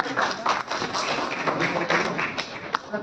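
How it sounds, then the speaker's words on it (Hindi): Audience clapping at an IP-to-IPO book launch and award event, a steady dense patter of many hands held for about three seconds with a few sharper claps standing out. "जोरदार तालियां हो जाए।"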